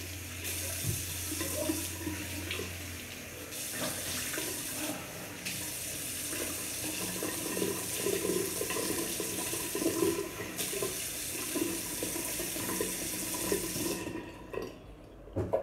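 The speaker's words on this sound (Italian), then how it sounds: "Allora, acqua fredda." Cold water runs steadily from a tap into a sink during a traditional wet shave, a continuous close hiss and splash lasting about fourteen seconds before it is shut off.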